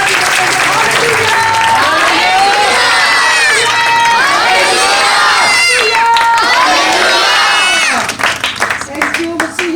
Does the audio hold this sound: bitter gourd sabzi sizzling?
no